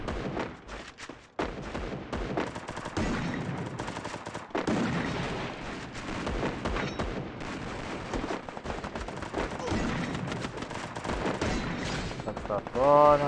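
Rapid AK rifle gunfire fills a video game played on BlueStacks, with dense automatic bursts and overlapping shots running loud and nearly nonstop.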